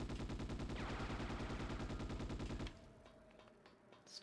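Sustained automatic gunfire in the Ghost in the Shell game on PS2, a loud rapid rhythmic burst of shots lasting over two seconds, then cutting off abruptly into quiet background ambience.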